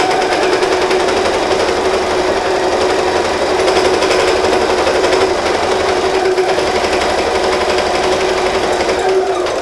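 A sewing machine topstitches around the edge of a fabric book cover, with a loud, unbroken, rapid mechanical chatter close by for the whole stretch and no voices.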